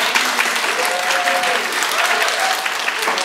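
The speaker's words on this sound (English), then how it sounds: "Let's give one final round of applause for our volunteers." A round of audience applause for volunteers closing a student cultural presentation, dense, fairly loud clapping from a crowd with a few faint tonal sounds in the background.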